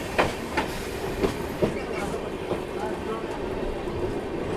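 A passenger train at busy Visakhapatnam station gives off a low, steady rumble, punctuated by a few sharp metallic clanks in the first two seconds, heard close by.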